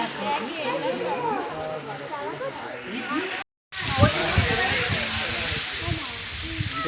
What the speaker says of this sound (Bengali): উপর দিয়ে জল পড়ছে দেখো